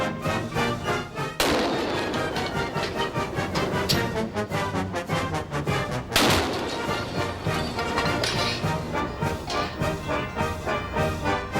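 A homemade trombone cannon loaded with extra black powder fires, giving two sharp loud blasts a few seconds apart over a dense, rhythmic ringing background.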